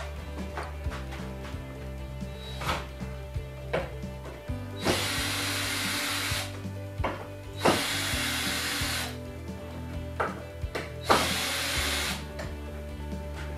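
A power drill drives screws through a wall panel inside a cargo trailer, with several loud whirring bursts of a few seconds each, separated by clicks and handling knocks, heard up close.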